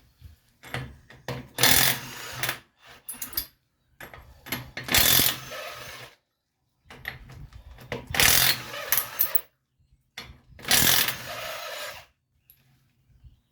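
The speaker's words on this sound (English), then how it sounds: "I'm using my battery gun because it's quieter than an air compressor" A cordless battery impact gun works studs loose on a welding truck build, giving repeated bursts of rapid mechanical hammering and whirring, close and loud, separated by short pauses.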